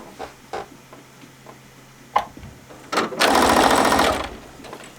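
Sewing machine stitching scrap patchwork fabric, one short close burst of about a second after a few soft handling clicks and taps.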